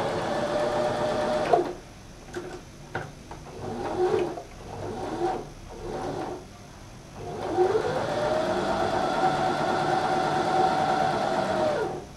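A sewing machine stitches fabric over pins for patchwork, its motor whirring in several short bursts and then a longer steady run, with small clicks and handling noises between.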